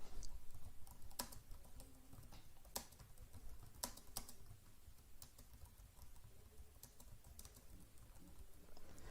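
Quiet typing on a computer keyboard while entering new text in Microsoft Word, with irregular bursts of soft key clicks spread over a steady low background hiss.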